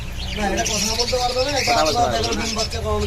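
Several caged pet birds in a shop chirp and coo continuously nearby, a busy overlapping chatter with a voice talking faintly underneath.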